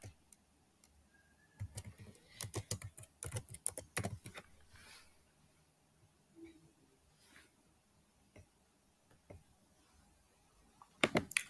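Computer keyboard typing while a form is filled in, bursts of quick clattering keystrokes that come and go, with quieter pauses and a final cluster of taps.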